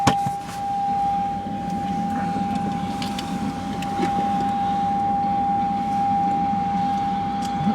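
A steady high-pitched electronic car warning beep, set off by the headlights, holds without a break over the low rumble of a car interior.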